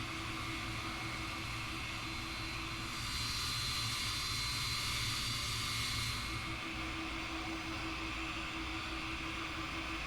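An MD-11 jet taxiing in Microsoft Flight Simulator, a steady low engine whine and hum with a brief rise in higher-pitched rushing midway, moderate and unbroken, no voices.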